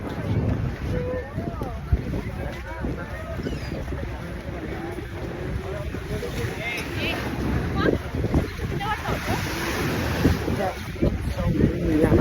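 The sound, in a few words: strong wind on Statue of Liberty tour boat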